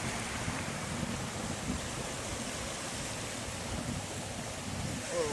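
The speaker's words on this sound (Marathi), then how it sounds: "आणि इथं बघू शकता फुल पाण्याचा प्रेशर आहे" Water rushing under strong pressure along an outdoor stream or channel makes a loud, steady roar with a wind-like hiss that runs unbroken for the whole stretch, with no talking.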